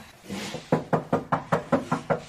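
Eight dull, hollow knocks in a quick steady rhythm on a thin, cheap car fender panel, close and moderately loud, after a soft rustle.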